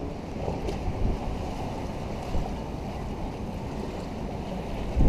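Strong 20-knot northeast wind and choppy waves buffet a boat moored in the Key West mooring field, a steady broadband roar of gusts and water with a louder surge near the end, no talking.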